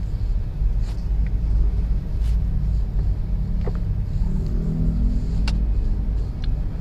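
A car's engine drones steadily while driving through heavy traffic, a continuous low rumble with faint passing vehicle noises and no talk.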